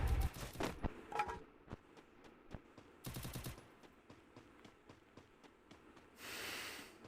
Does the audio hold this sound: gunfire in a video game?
yes